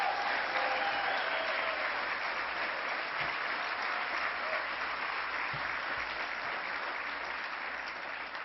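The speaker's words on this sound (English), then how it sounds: "Let's give him a round of applause" A crowd at a political event applauds Bob Duffy, former mayor of Rochester, with sustained, even clapping that fills the room and fades slightly toward the end.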